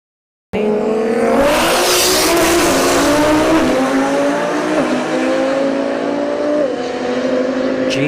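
Audi R8 and Infiniti G37 launching in a drag race run at a motorsport park, engines suddenly roaring loud and revving up through gears, with tire noise and crowd sound underneath.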